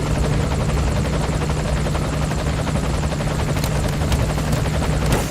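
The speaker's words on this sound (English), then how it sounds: "take a look outside of the helicopter." A helicopter in Metal Gear Solid V: The Phantom Pain, with dense, continuous rotor thumping and engine roar heard from the cabin, loud and steady throughout.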